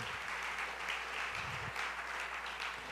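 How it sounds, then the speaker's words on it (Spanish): A church congregation applauds during a sermon, with dense, steady clapping that sounds soft and somewhat distant and keeps an even level for the whole stretch. "Denle un aplauso al Señor por la primera predicación."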